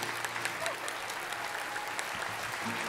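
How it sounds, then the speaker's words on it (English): An audience claps loudly for the winner of the 2018 Great American Think-Off. The applause is steady and dense, with scattered cheers mixed in, and carries on through the whole stretch. "Let's have a huge round of applause for the winner of this year's 2018 Great American Think-Off, Anthony Barry Hill."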